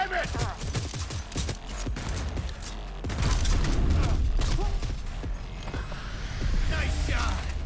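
Gunfire in the Cyberpunk 2077 video game, a dense run of rapid, loud shots and impacts with rumbling booms, while voices talk over the action.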